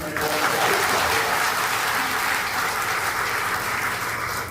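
A large crowd at a political rally claps continuously, a loud, dense and steady wash of applause with faint voices mixed in.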